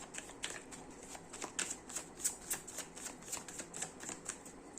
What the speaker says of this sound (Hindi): पहले मैं कार्ड्स निकाल लेता हूँ।